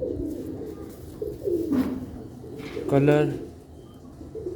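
Sialkoti pigeons coo in low, throaty bursts, with one fuller coo standing out near the end, while someone talks over the birds close by.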